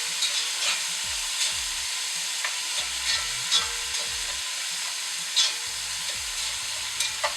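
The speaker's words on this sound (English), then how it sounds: "Now that all my vegetables are all seared off" Vegetables searing in a pan with black peppercorns, bay leaves and fresh thyme sprigs for braised beef. A steady sizzle runs throughout, broken by intermittent scrapes and clinks of stirring.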